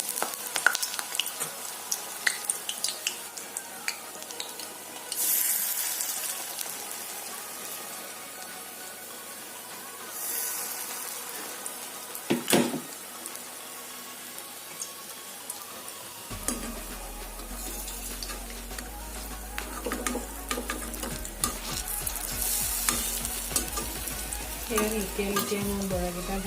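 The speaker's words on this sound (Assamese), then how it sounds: "এতিয়া মই বৰাকেইটা ভাজি আছোঁ" Pumpkin flower fritters coated in gram flour batter fry in hot oil in a kadai, giving a constant close sizzle with bursts of louder crackling and some utensil clatter and stirring.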